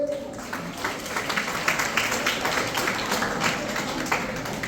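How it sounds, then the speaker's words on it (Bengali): Audience clapping at a Paschim Banga Divas celebration, a steady, moderately loud spatter of many hands that carries on throughout, with voices faintly mixed in. "একটু হাততালি দেবে চলে।"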